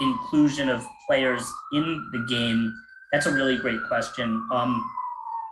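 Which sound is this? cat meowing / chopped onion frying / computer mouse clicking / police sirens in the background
police sirens in the background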